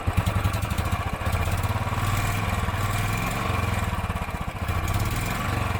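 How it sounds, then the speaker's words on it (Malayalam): A Royal Enfield Bullet Standard 350 motorcycle engine runs steadily, with a rhythmic low thumping beat and a mechanical clatter throughout, close and loud with no talking. "ഒറ്റ കിക്കിൽ തന്നെ വണ്ടി സ്റ്റാർട്ടാവും"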